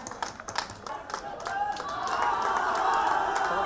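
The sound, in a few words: audience applause at kabaddi tournament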